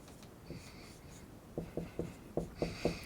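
Marker strokes on a board during an organic chemistry lesson give a series of short, soft squeaks and taps, several in quick rhythm near the end, close and fairly quiet.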